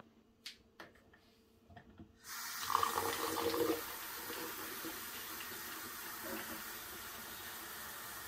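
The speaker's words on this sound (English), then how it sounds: "Be sure to add a desired amount of water in here." Water is poured into a blender while making homemade orange juice: a steady, fairly loud rushing splash begins after a couple of seconds of near-quiet with a few small clicks, peaks briefly, then continues evenly to the end.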